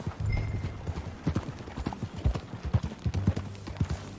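Horses ridden in the Red Dead Redemption 2 video game clip-clop in a quick, uneven rhythm of hoofbeats, close and fairly loud, with no talking over them.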